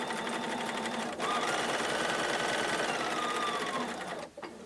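A home sewing machine stitches quilt fabric for a Friendship Star block, a fast steady whirring hum with brief pauses near the start and end, close and moderately loud.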